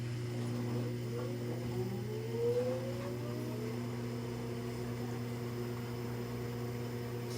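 An LG washing machine in diagnostic mode whirs through a high-speed spin at about 590 RPM as its drain pump starts, giving a steady close motor hum with rising whine sweeps and no talking.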